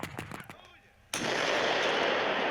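Explosions and artillery fire from a Russian military drill: a few sharp blasts come first, then a short lull, then a loud, sustained roar of gunfire and booms that continues to the end.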